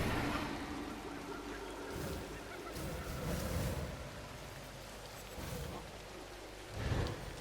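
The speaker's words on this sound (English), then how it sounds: "Maybe because it's raining." Rain in the video game Ancestors, a steady wash of falling rain with low rumbling swells, fairly faint, with some muffled voice underneath.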